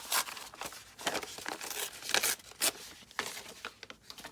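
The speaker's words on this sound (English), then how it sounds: "I'm just going to do some ripping here" Paper sketches torn by hand for a junk journal, a series of close, sharp ripping and crinkling strokes in irregular bursts, each tear loud and brief with rustling between.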